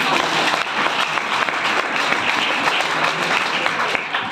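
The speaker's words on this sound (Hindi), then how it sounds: "ताली बजाइए।" Applause from students at a class 12 farewell event at a high school in Deokuli, a dense, steady clapping that fills the whole stretch with a few voices mixed in.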